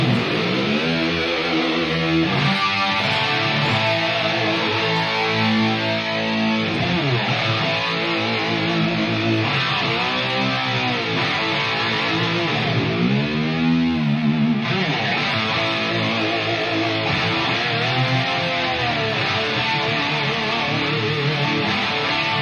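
A voice processed through a RodeCaster audio mixer's effects, giving a heavily distorted, robotic timbre with warbling pitch sweeps, loud and continuous throughout.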